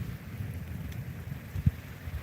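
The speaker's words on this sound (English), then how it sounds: "Rain's starting to come down pretty good." Rain falling outdoors during a storm with tornado risk in Wisconsin: a soft, steady wash of rainfall with a low rumble and one brief thump, no voices.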